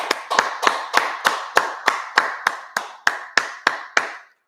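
Twelve evenly spaced hand claps ring out in a steady rhythm over four seconds, crisp and close with a short room tail after each, sounding more like one clapper keeping time than a crowd.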